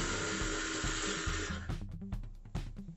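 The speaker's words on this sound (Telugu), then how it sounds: "ఇప్పుడు నేను మళ్ళీ పొడి మొత్తం ఒకసారి వేసేసుకొని ఒక్కసారి మళ్ళీ మిక్సీ పట్టేసుకుంటున్నాను" A kitchen mixer grinder whirs loudly while grinding dried drumstick leaves into powder, running steadily for about a second and a half before cutting off and leaving short clattering knocks as the jar settles.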